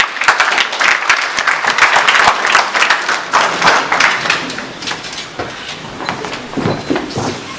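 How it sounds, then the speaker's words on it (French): Loud, sustained audience applause at the 2017 Mandela Prize for Democracy award ceremony, dense clapping from a large crowd that swells early, then gradually thins and tapers toward the end. "Sous vos applaudissements, mesdames et messieurs."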